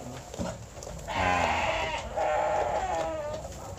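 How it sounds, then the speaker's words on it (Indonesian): Garut sheep bleating at a livestock farm selling animals for Qurban, a couple of loud, wavering bleats standing out over background farm noise and chatter. "nah ini juga ini domba Garut"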